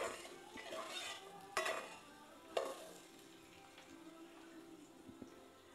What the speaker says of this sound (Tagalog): Unahin natin ang luya. Haluin lang natin para hindi masunog.